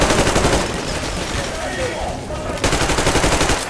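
Heavy automatic gunfire from Metro Exodus, loud and continuous, with rapid overlapping bursts across the whole stretch, briefly thinning, then resuming with renewed intensity.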